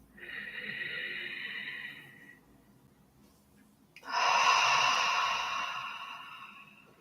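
Deep breaths drawn in through the nose during a calming body-scan exercise, two long airy inhales and exhales with a pause between, close and soft, the second breath fuller and louder.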